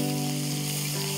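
Prawns fry in a pan, giving a steady close sizzle under a constant low background hum for a brief moment.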